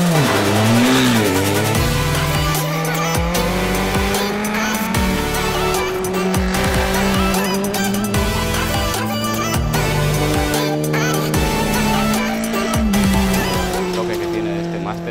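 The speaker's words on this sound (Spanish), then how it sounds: "el run que ha hecho el coche en pista." A race car lapping a circuit track during a motorsport training session, its engine loud and continuous throughout, rising and falling in pitch through acceleration and gear changes, with tire squeal.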